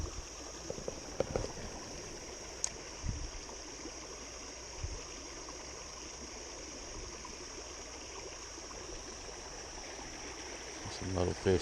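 Creek water pours steadily below a small waterfall in a continuous, soft rushing wash, with a few faint knocks and handling noises near the start and end.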